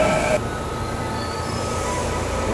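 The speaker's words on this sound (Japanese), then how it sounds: "早速来たのが、お、これ近鉄の特急ですね" A Kintetsu Urban Liner Next limited express, running as an out-of-service train, pulls into Sakuragawa station with a steady rolling rumble of wheels on rail, after a brief high squeal at the start.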